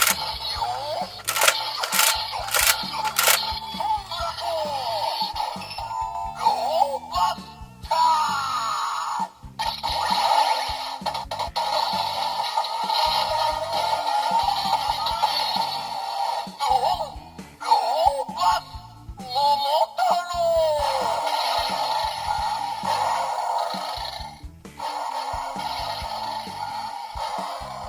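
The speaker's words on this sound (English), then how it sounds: "So that is the sound of CB01 Cheetah powering up" An electronic toy plays its power-up sequence: a few sharp beeps, then warbling synthetic tones, whirs and clicking mechanical effects that swell and fade repeatedly.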